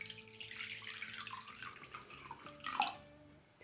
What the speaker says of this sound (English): So add some water